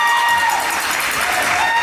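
Crowd in a high school gym applauds at a girls basketball tournament, a loud continuous wash of clapping with faint cheering mixed in and a tone ringing through it.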